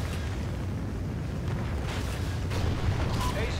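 A Trinity rocket strike explodes in a video game as a deep, sustained rumbling blast that rolls continuously for several seconds, dense and heavy with no clear pauses.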